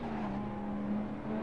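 A Lotus Elise sports car passing, its steady engine drone holding a sustained tone at moderate distance, with no voices.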